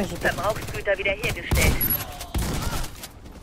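Gunfire in the shooter game Warface: a sharp loud burst of shots near the middle, with a second weaker burst after, under excited voices of players talking.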